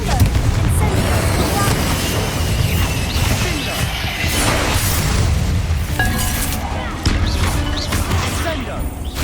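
Fiery Confringo spell blasts from Hogwarts Legacy, a dense run of booms and crashes under a continuous loud wash of battle noise, with a voice shouting spell names over it.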